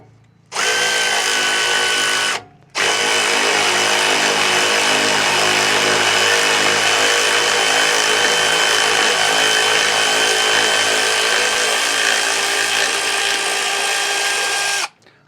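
Power ratchet loosening bolts on a 2018 Ram 2500, a loud close whine with a brief burst, a short pause, then one long continuous run of about twelve seconds before stopping.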